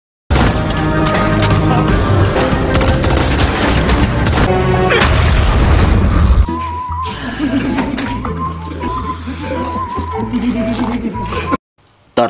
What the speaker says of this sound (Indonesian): para penculik itu saling menembak